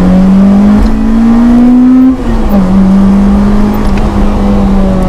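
Honda Integra Type R with a K20A engine accelerating hard on a wet road, a loud, close, steady engine drone rising in pitch through a gear, dipping briefly at a shift, then pulling again.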